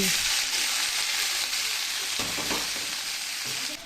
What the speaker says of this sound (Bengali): তেল গরম হয়ে আসলে দুটো শুকনো লঙ্কার ফোড়ন সেই সাথে হাফ চা চামচ কালো জিরার ফোড়ন দিয়ে তারপর পেঁয়াজ কলিগুলো দিয়ে দিচ্ছি